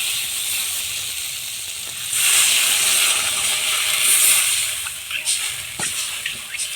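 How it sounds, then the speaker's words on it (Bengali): Water poured into a pan of sautéed spiced potatoes sets off a steady hissing steam that swells loudly about a third of the way in, then settles into bubbling with a few scraping clicks near the end; no one speaks. "মশলা আলু কষানো হয়ে গিয়েছে এখন আমি জল দিয়ে দেব"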